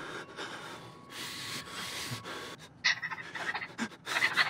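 A character in the horror video game Outlast pants heavily and rapidly, loud and close, the breaths growing harsher and more ragged toward the end, with no talking.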